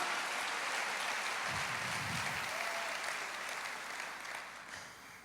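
A church congregation applauds together during a worship service, a dense, steady wash of clapping that holds strongly for several seconds, then thins and fades toward the end.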